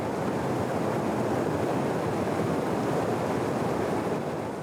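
A fast-running river in the South American forest, a dense, loud, steady rushing roar of water with wind-like noise at the microphone, no voices.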